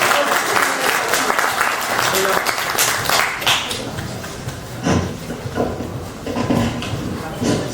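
An audience claps for poet Ayhan Akgül as he is invited up, a burst of applause that thins into scattered claps, with a voice talking over it.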